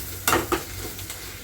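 Egg frying in a pan on low gas for egg rice, stirred with a spatula: a soft continuous sizzle with a couple of brief scraping strokes near the start, close and moderately quiet, no talking.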